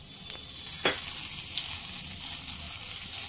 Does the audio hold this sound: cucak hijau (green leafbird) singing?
no